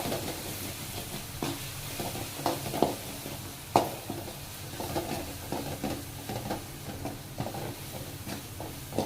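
Tomatoes with garam masala and other spices sizzle and fry in a pan for a capsicum egg gravy, a steady close hiss broken by scattered stirring scrapes and taps of a spoon against the pan.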